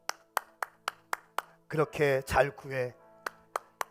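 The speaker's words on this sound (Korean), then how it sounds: "이렇게 박수하셨을 것입니다" A preacher claps his hands in a steady rhythm of sharp, bright claps, pauses while someone speaks, then claps a few more times, alone in a quiet room.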